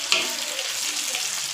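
Food frying in a pan, sizzling steadily and close while it is stirred and turned over, with a brief clatter near the start and no talking.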